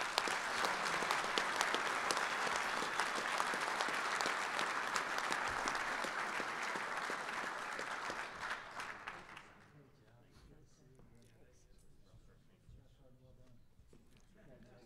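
A banquet crowd at a Marine Corps logistics awards dinner claps in sustained applause for about ten seconds, then it fades to scattered claps and a quiet room with faint voices.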